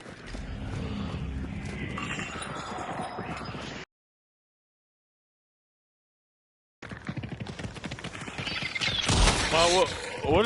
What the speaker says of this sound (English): It makes a bunch of gunshots.